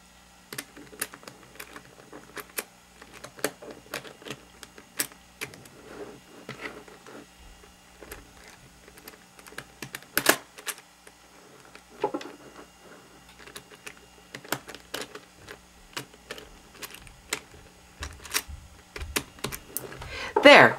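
Plastic pieces of an Eastsheen 4x4 puzzle cube clicking and snapping as they are pushed into place, a steady run of sharp close taps and ticks with a louder knock midway and a person talking over parts of it.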